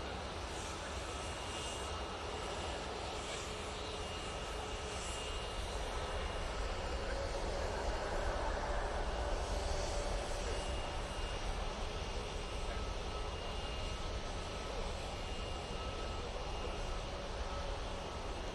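An airliner departs Manchester Airport bound for Mahon, its engine roar a steady broadband rumble heard at a distance, building gradually and holding loud throughout with faint hints of talk underneath.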